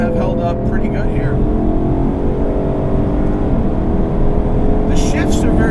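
A 2019 Aston Martin Vantage engine drones loud and steady while driving, a rich rumbling note holding through the run with a slight rise in pitch late on, close up from inside the car.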